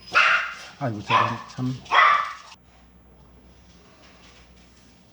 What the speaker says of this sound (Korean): 큰아들이 오는 바람에 우리 강아지가 한번 짖었네요